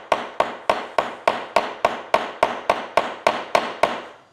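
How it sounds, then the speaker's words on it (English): A ball peen hammer striking a rivet post on a leather satchel, about thirteen sharp, evenly spaced metallic taps in a steady rhythm, close and loud with no talking. "Then I've got just a ball peen hammer here."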